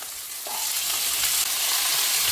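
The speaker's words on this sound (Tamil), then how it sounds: "இப்போ நல்லா வதக்கி விட்டுக்குவோம்" Drumstick and brinjal pieces sauté in hot oil in a pan for poricha kuzhambu, giving a loud, steady, close sizzle that swells slightly after a brief stir.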